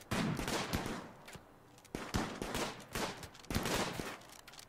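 Colonists trade gunfire in the RimWorld video game, with repeated sharp shots in irregular bursts across the span, fairly loud and close, with no talk.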